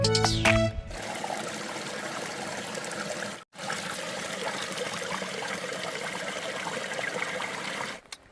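Steady, full rushing of a waterfall and creek beside a campsite on the Tahoe Rim Trail, a loud continuous wash of flowing water with a brief break partway through and no voices.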